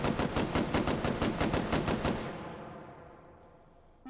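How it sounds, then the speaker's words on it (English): A BAR automatic rifle fires a rapid, evenly spaced burst of about two seconds in the VR shooter Hot Dogs, Horseshoes & Hand Grenades, loud and close, then the shots stop and a reverberant tail fades out with no talking. "So let's just shoot this a bit."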